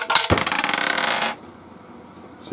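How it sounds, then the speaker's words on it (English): A die tumbles down through a Dungeons & Dragons dice tower, a quick clattering burst of plastic knocks that rattles for about a second and then stops, followed by near silence and a final faint tap. "You can see even by gently dropping this die in"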